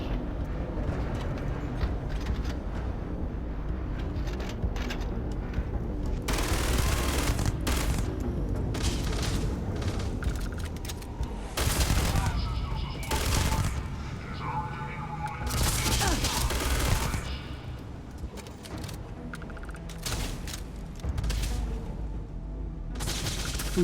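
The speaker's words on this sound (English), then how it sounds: "Who's shooting at me?" Enemy gunfire in the sci-fi shooter Starfield, loud bursts and booming shots breaking out in clusters across a steady combat background, with occasional speech in between.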